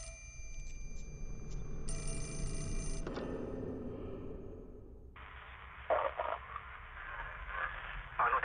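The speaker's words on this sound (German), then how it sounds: "Warum rappelt hier das Telefon schon wieder?" A telephone rings in the Project Zero video game. The ringing bursts are layered over dark ambient noise, followed by shifting eerie tones and clatter. No speech is heard.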